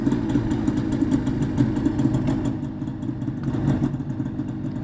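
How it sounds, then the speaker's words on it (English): A snowmobile engine that has been under repair runs steadily nearby, a loud, continuous low idle with a clattering, uneven rumble throughout. "Oh, they got a snowmobile running that they were working on."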